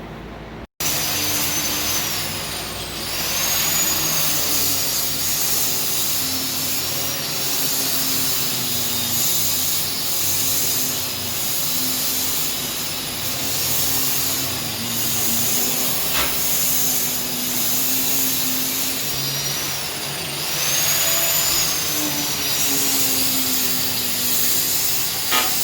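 A grinder fitted with a cheap Harbor Freight grinding wheel works on metal inside a school bus conversion. It gives a loud, steady, close-up roaring whine with a hissing edge and gentle pitch sweeps, running for about 25 seconds with no talking.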